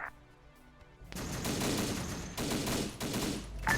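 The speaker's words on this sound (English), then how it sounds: "Be advised we're taking heavy fire from the northeast" Heavy gunfire in a military video game set in the Haiphong Incident, a quiet lull giving way to sustained, loud bursts of automatic fire with overlapping shots and brief surges, close and relentless.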